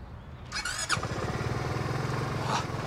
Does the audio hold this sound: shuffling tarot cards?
no